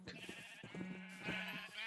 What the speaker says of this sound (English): And now we have all the sheep in here.